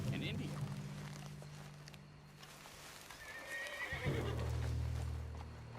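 A spooked horse in the Western video game Red Dead Redemption 2 gives a shrill, rising whinny near the middle, with clip-clopping hooves, a low steady rumble and faint game voices around it.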